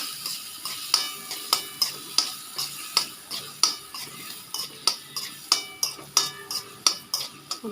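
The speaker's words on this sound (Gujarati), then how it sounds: "બધું મિક્સ કરી દીધું." A spoon stirs and mixes food in a frying pan, scraping the metal in a steady, quick rhythm of about fifteen close, crisp strokes, with no talking.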